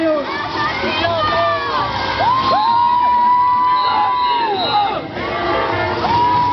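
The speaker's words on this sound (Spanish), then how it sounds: "Un fuerte aplauso." Crowd cheering, shouting and whooping at a Bolivian parade in Jersey City as a caporales dance group passes, a loud continuous roar of voices with rising shouts and whistles throughout.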